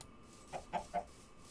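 Three quick clucks from a chicken in Minecraft, evenly spaced and close, stand alone against a quiet game background.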